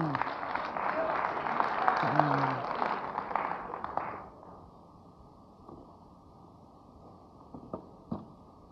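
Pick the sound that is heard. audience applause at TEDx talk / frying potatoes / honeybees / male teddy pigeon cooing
audience applause at TEDx talk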